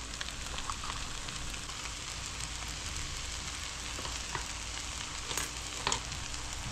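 Vegetables and Spam sizzle loudly in a ramen stir fry, a dense, constant frying hiss with occasional spatter and stirring clicks, close up and with no voices.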